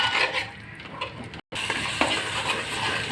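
Mint paste and masala fry hard in a pan for mint tomato rice, a dense close sizzle with scraping stirs and a brief cut near the middle, no talking.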